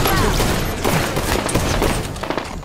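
Plasma caster firing in a sci-fi shooter, a dense stream of rapid energy blasts and booms close up and loud throughout, with voices briefly underneath.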